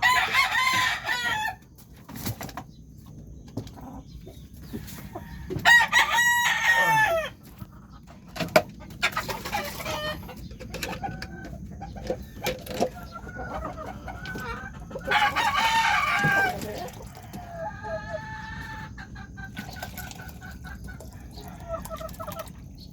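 Roosters crow several times against steady background clucking of chickens, some calls near and loud, others farther off.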